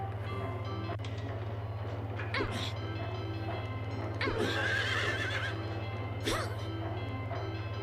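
Horses neigh in Silent Hill 3, with three loud, shrill whinnies spaced a couple of seconds apart over a constant low mechanical hum and faint hoof clatter.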